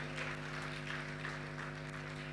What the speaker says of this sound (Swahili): Makofi mengi sana kwa Irene na Angel.